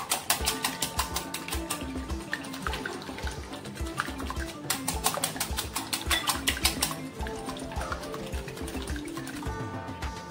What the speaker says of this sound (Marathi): तर ही अंडी आपण पहिली चांगल्या प्रकारे फेटून घेणार आहोत।